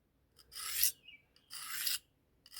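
A knife blade being drawn across a Pickled Steel sharpener in two slow rasping strokes, close and quiet, a gritty scrape with a brief pause between passes and no talking.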